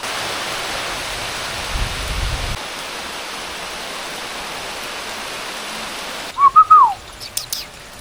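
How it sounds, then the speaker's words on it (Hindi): Rain falls as a steady broadband hiss that fills the whole stretch, fairly loud and even, with a brief low rumble early on and a short bird call near the end. "ये बारिश आके वेदर फ्रेश कर दिया, बिल्कुल फ्रेश कर दिया"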